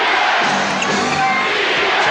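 A crowd of more than 17,000 at a 1990 NBA Finals game between the Bulls and Lakers roars steadily and loudly throughout, a dense wash of voices filling the arena.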